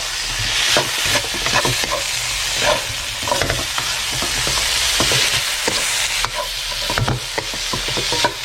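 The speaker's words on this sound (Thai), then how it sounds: "แล้วก็ผัดซ้ำเลยนะฮะ" Vegetarian taro dish being stir-fried in a pan, a steady close sizzle with repeated scraping strokes of the utensil against the pan, no voices.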